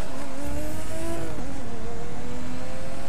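Race car engine in The Crew 2 revving loudly and close, with a rising and falling whine over a dense, gritty roar and a hint of tire noise.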